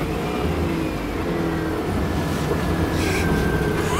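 A widebody BMW E36 spinning clockwise donuts, its engine holding a loud, sustained rough roar with a steady drone and tire noise, close and continuous throughout.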